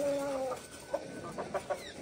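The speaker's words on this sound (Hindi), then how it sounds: "ये हमारी मुर्गियां जो अंडे दे रही हैं" Egg-laying hens in a small backyard coop cluck softly in short, scattered calls, faint and fairly close, over a steady background hum.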